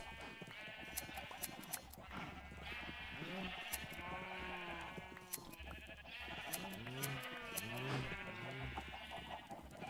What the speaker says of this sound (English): Oh god, I love shaving sheep.